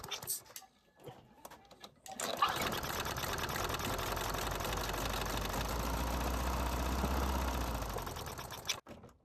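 A small engine, brake cleaner sprayed into its intake, catches and runs roughly at a fast idle for several seconds after a few faint clicks, then cuts out abruptly.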